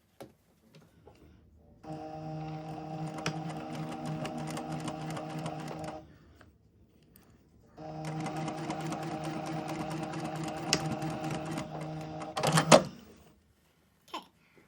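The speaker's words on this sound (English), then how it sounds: "I'm going to sew right on the folding edge and tack down 2 layers only" A sewing machine stitches along the folded edge of fabric pleats, tacking down two layers in two steady runs of about four seconds each, separated by a pause, with a few small clicks at the end.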